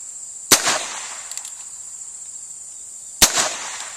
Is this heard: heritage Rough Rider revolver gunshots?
yes